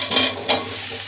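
Vegetables, a dish of Malabar spinach cooked with fish oil, fried and stirred in a pan: a brief burst of sizzling with two quick scraping stirs, close and steady.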